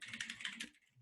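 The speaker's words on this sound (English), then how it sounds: "I can't freaking type." Fast typing on a computer keyboard, a quick close run of soft clicking keystrokes that stops near the end.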